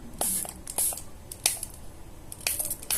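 Several short hissing bursts of a face mist spray spritzing onto a makeup brush, close and crisp, spaced irregularly with quiet handling noises between them.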